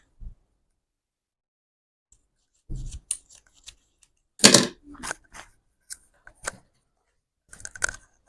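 Scissors snip through excess Ankara fabric in short, close, crisp cuts with quiet gaps between them. A louder cluster of snips comes in the middle and a few more at the end, with no talking.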